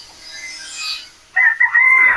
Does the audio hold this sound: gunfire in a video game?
no